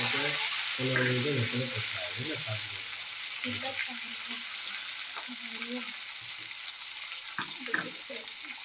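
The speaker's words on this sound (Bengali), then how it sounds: "তারপর কেটে রাখা টমেটো আমি এখানে দিয়ে দেবো।" Chopped tomato dropped into a pan of hot oil seasoned with black cumin gives a continuous bright hiss and sizzle, with a person talking over it in the first half.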